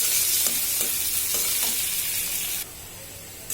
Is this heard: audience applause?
no